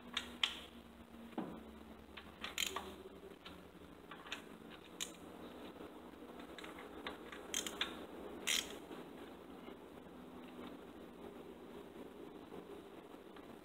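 A stubby ratchet on intake manifold bolts during a Holley Sniper EFI install on a 5.0L 302 Ford, heard as quiet, irregular clicking pawl ticks and short bursts spread across the stretch, with no talking.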